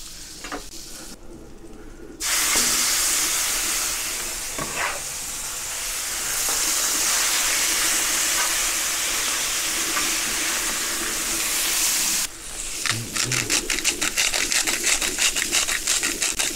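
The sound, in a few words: butter browning and sizzling on a Pit Boss gas griddle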